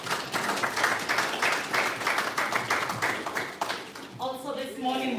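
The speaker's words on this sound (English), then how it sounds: "Please a round of applause." A round of applause at a hub commissioning ceremony, steady dense clapping from an audience for about four seconds before a voice begins speaking.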